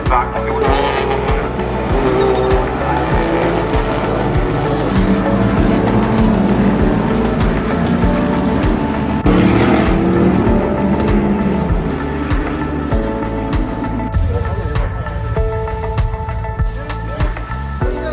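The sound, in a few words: race cars driving around a racing circuit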